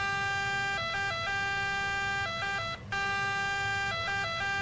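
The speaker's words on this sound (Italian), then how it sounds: "Io accendo le sirene." Emergency vehicle sirens wail in Farming Simulator 19, layered electronic tones stepping up and down in a repeating pattern, loud and continuous with one brief dropout.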